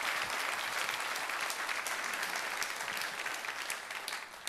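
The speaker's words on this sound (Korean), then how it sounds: "우리 이재훈 목사님 나오실 때 우리 큰 박수로 환영해 주시기 바랍니다." A church congregation applauds as the pastor comes up at a Sunday service, a steady, moderately distant wash of many hands clapping that holds for several seconds without voices.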